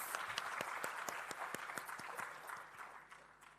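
Steady applause from an audience at an engineering membership award ceremony, a dense wash of clapping that fills the clip evenly and tapers slightly at the end, heard at a moderate distance.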